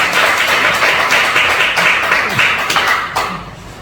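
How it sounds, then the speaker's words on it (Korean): A church congregation claps together during a sermon, loud and close, with distinct individual claps audible in the dense burst before it tapers off at the end. "그럼 다 같이 박수 한번 주세요."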